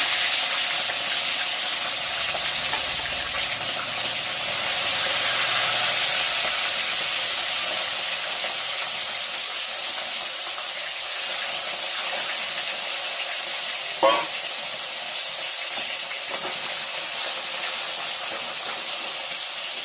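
Bata fish frying in hot oil, a steady, loud, broad hiss that holds evenly throughout with a few faint clinks, no voices.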